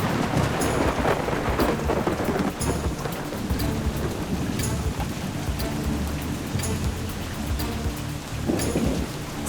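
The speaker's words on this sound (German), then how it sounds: "Ein kräftiges Gewitter zieht über das Matschatal." Heavy thunderstorm at night deep in the Matscha valley in the Swiss Alps: steady, dense rain roars throughout while thunder rumbles low and repeatedly underneath, with no voices.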